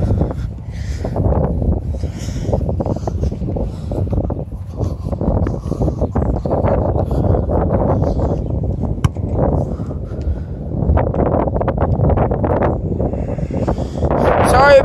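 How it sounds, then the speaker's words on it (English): Strong gusts batter an outdoor microphone where friends ride dirt bikes, a heavy low rumble with bursts and buffeting that runs the whole time, near and loud. "Sorry about the wind, guys."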